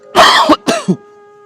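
A couple of sharp, close coughs in quick succession, with a faint steady hum underneath and no talking.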